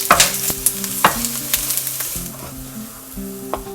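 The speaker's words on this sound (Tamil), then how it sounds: "ரவையை சேர்த்து மிதமான தீயில வச்சு அதனுடைய நிறம் மாறாமல் வறுத்து எடுக்க போகிறோம்." Semolina (rava) roasts in oil in a pan over medium heat, giving a continuous close sizzle broken by repeated scraping and stirring strokes of a spatula, with no voices.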